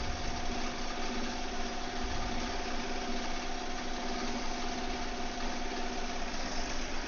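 Sewing machine stitching a floppy beach hat, a continuous close mechanical hum with a fast, even rhythmic chatter that runs steadily without pause.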